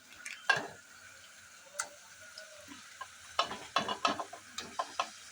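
Chicken curry masala in tomato paste being stirred in a pan, a series of scraping spoon strokes that quicken and cluster toward the end over a quiet soft sizzle, with no talking.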